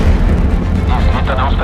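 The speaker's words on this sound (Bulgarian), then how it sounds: "Излитане успешно." A rocket lifts off after a countdown in a movie trailer: a loud, dense, continuous roar fills the moment while a voice speaks over it.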